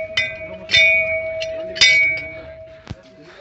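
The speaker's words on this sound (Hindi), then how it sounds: "बजाओ घंटी यार।" A metal temple bell at Tungnath Shiva temple is struck a few times, each strike ringing out with a bright, sustained tone that lingers and overlaps before fading.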